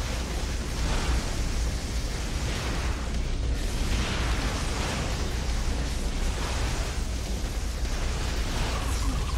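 Bullets striking an energy shield in the game Infamous make a dense, steady pitter-patter crackle that runs loud and unbroken throughout, like a continuous burst of sparks with no voices.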